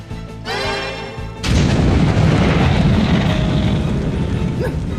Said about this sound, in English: Fire! Fire! Fire!